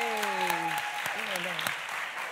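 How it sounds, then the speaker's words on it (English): An audience at a Serpentine evening event applauds the team in a dense, steady wash of clapping that lasts throughout, with a speaker's voice heard over it. "a big applause for the team, Natalia Grabowska, Mike Gorn, and Joel Bunn"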